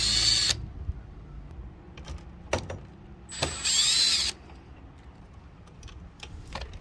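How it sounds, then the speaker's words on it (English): Phillips head screws being backed out of an RV entry door handle, with two short bursts of a power driver whirring up close and a few light clicks and taps between them. "So first you're going to remove these 2 screws."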